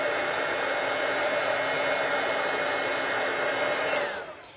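A heat tool blows steadily to dry colouring on a fall-themed handmade card, a loud, even roar that runs throughout and fades in the final half second.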